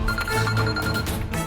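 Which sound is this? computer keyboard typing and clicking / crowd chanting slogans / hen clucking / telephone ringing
telephone ringing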